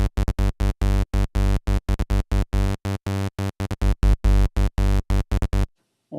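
Buzzy sawtooth synthesizer notes with a deep triangle-wave sub oscillator, played in a fast staccato rhythm of short repeated acid stabs, bright and loud, ending abruptly.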